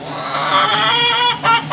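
Several rain-soaked backyard hens, a gold one and a red one, cluck and chatter continuously at close range, with a louder burst of squawking near the end.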